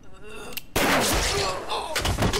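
Gunshots ring out in Yakuza Kiwami 2: one loud, heavy blast followed by a further burst of sharp reports, close and forceful, with a voice heard briefly.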